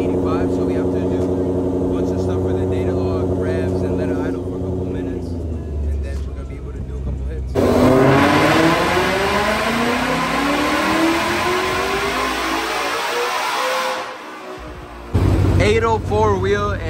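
A Ford Shelby GT500's engine, being base-map tuned for E85 fuel, revs loudly and continuously, with a long rising sweep in the middle before it settles back. A voice speaks over part of it.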